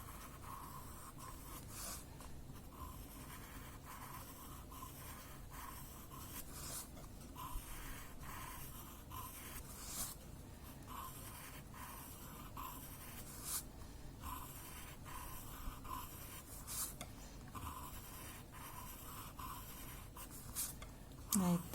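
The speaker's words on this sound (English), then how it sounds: "I'm now going to pick up my chalk pencil and highlight the center." Chalk pencil drawing on paper, a soft, continuous scratchy rubbing with repeated short strokes, faint and close, with no clear talk.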